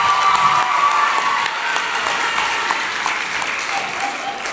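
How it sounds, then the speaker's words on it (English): An audience at a teen press conference gives a round of applause for the event host, dense, sustained clapping that stays loud and fairly even, then eases slightly toward the end, with a faint whistle early on. "Can we have one more round of applause for Dhonielle,"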